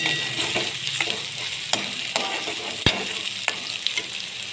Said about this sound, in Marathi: कांदा चांगला परतून